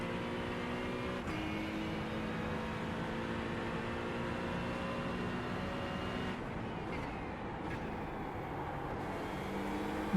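Acura NSX GT3 EVO race car engine in iRacing at Watkins Glen, a steady loud high-revving drone held nearly flat throughout, with a brief dip partway as the pitch shifts, then resuming its sustained whine.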